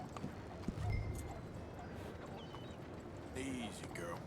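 Horse hooves clip-clop at a steady walking pace in the Red Dead Redemption 2 game, quiet and close, with a voice talking over them.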